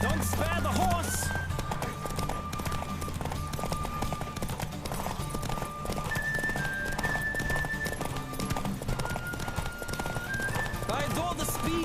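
Rapid, rhythmic hoofbeats of a galloping horse in The Witcher 3: Wild Hunt video game, with an occasional whinny, over a steady musical backdrop.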